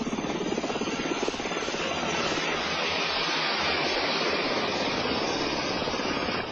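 A US Army Black Hawk helicopter in a flight demonstration, its rotor and engine roar loud and continuous throughout, close and steady with no talk.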